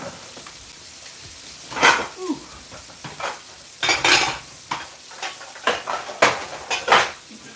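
A big cooking dish being handled in a home kitchen while making keto portabella pizza with sausage, giving a run of close clanks, scrapes and knocks of cookware against surfaces at an irregular pace.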